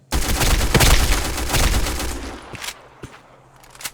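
An SR-47 assault rifle fires in the video game Black Squad, a rapid burst of loud, close automatic shots for about two seconds, then a few trailing single shots and clicks.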